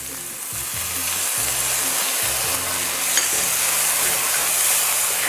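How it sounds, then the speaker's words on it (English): Dried shrimps and dried squid stir-fried in a wok with garlic and shallots give a loud, steady sizzle and hiss, with rhythmic scraping and tossing strokes running through it from start to finish. "Now, this is really when you need to quickly stir fry it."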